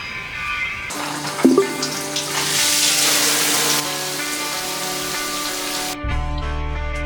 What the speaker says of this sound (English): Let's shower.